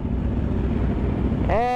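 Kawasaki H2 motorcycle engine idling nearby, a loud steady low rumble during a group ride, with a brief rising voice-like tone at the very end.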